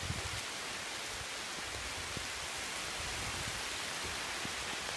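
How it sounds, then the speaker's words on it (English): Steady rain pouring down on a Vermont homestead, a dense, even hiss with no breaks, moderately quiet and heard on its own. "And it's raining"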